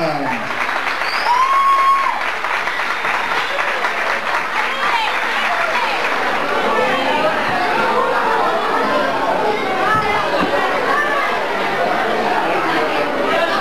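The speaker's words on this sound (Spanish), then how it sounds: "El aplauso para la entrega de los premios del Trofeo 2000." An audience at a community centre trophy award ceremony applauds loudly and steadily, with chatter, murmuring voices and occasional laughter mixed into the clapping throughout.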